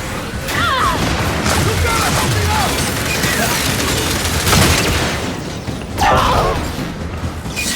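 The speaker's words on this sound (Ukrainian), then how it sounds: "Якийсь вибух стався." Loud, chaotic Gears 5 game action with heavy booms and crashing impacts, plus scattered bursts and whistling effects layered over a dense rumbling background.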